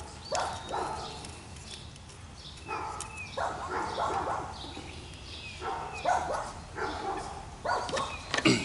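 Several dogs bark in short repeated bursts in the background of a garage or yard where a Sears lawn tractor's solenoid is being replaced, with gaps of quieter ambience between the barks.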